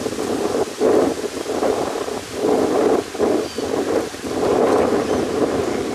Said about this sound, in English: If you can hear me over the wind noise.